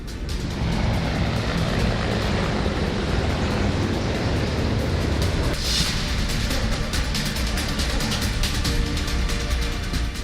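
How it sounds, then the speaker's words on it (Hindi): MI-35 and Apache attack helicopters fly over Rajpath during a Republic Day parade flypast, a loud, steady roar of rotors and engines that shifts partway through as the aircraft pass overhead. "मेघना के बाद बारी एकलव्य फॉर्मेशन अटैक हेलीकॉप्टर्स की थी, जिनमें MI-35, अपाचे और एरोहेड लड़ाकू विमानों ने राजपथ पर उड़ान भरी"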